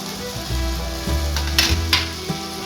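Ghee sizzles in a pan of noti saag cooked with fish head, a steady frying hiss with stirring scrapes and a few louder clinks of a utensil, close and alone.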